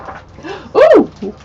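A dog gives a single close, loud bark with a whimpering yip around it, short and sharp.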